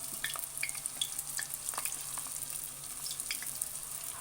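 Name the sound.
samosa dough pieces frying in hot oil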